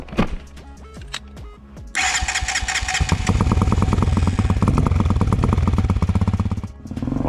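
A cheap 250cc EFI dirt bike from Walmart cranks for about two seconds, then fires and revs loudly at close range before idling down near the end, with no talk.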